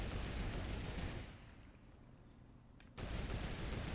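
Gunshots in the Fortnite video game crackle in dense, loud bursts at the start, fade to quieter background during a lull, then return abruptly at full volume near the end, with no talking.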